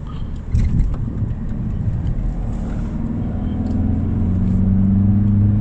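A BMW E46 320d diesel car accelerates at full throttle, heard from inside as a low, steady engine drone that grows slightly louder and rises in pitch, fairly subdued rather than harsh.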